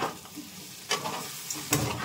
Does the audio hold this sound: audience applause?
no